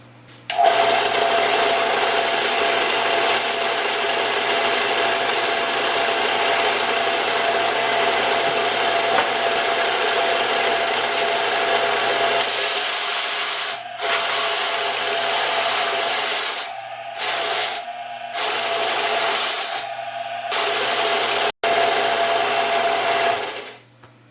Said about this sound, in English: the motor's not stalling out, it's the tension on the belt